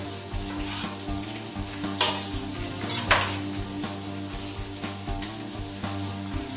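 Onion and garlic sizzle in extra virgin olive oil in a pot, a close, steady frying crackle with occasional sharper pops and clinks, music playing softly underneath.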